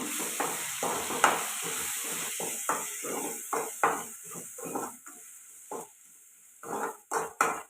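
Garam masala stir-fried in a pan for Telugu-style egg pulusu, with a steady sizzle running throughout and repeated scraping strokes of a spatula against the pan, some louder clattering near the end.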